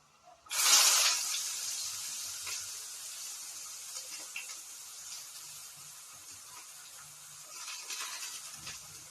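Chopped onions hit hot oil in a pan with a sudden loud hiss that settles into a steady, gradually fading sizzle, with a few soft kitchen clatters near the end.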